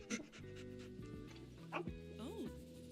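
A dog panting in the cozy video game Tiny Bookshop, soft breathy huffs alongside short whimpers and yips over gentle game music.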